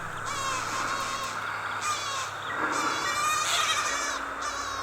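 A channel-billed cuckoo chick gives repeated harsh, raspy calls close by, rising and falling in a series of strained squawks over a low background hum.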